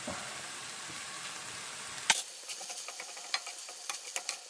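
Ground beef browns with green chilies and garlic in a pan, a soft steady sizzle followed by scattered faint ticks and stirring clicks, quiet and without talk.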